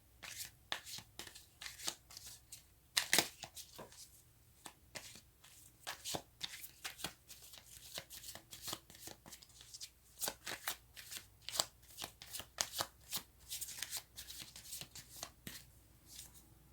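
Tarot cards are shuffled by hand in a quiet room, a rapid series of crisp riffling flutters and soft slaps repeating steadily, close and clear with no voices.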